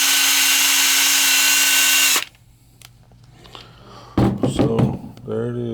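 A Snap-on CT8850O half-inch cordless impact wrench runs in a loud, steady close-up whir for about two seconds, then cuts off abruptly; a person starts talking afterward.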